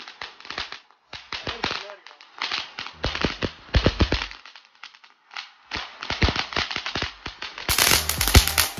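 A Red Bloom firecracker bursts into a rapid string of sharp, loud cracks and pops, coming in uneven clusters with short gaps, ending in a denser, brighter crackle.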